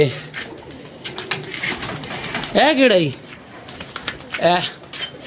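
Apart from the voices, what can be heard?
pigeons cooing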